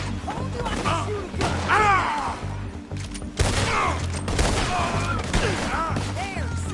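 Gunfire rings out in a Red Dead Redemption western shootout, several sharp shots and crashes scattered across the stretch, layered with voices, music and harmonic game sounds.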